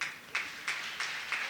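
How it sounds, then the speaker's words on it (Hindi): An audience at a Jain religious gathering claps in a few slow, evenly spaced unison bursts, four sharp claps about a third of a second apart, close and moderately loud. "थोड़ी सी तालियां"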